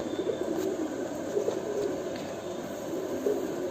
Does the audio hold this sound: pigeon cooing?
yes